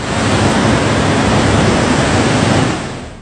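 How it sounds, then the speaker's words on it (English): Water rushes in a powerful, continuous roar from a collapsed dam, loud and steady like heavy surf, with no voices, fading slightly at the end. "The whole dam has collapsed and water rushes from it."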